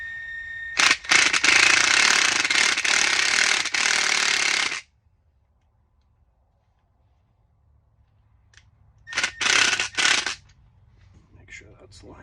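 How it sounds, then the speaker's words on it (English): A power drill whirs loudly for several seconds, then stops; after a pause, two shorter bursts of drilling follow with a little handling noise. "We should be able to screw that right in. Okay, found the drill."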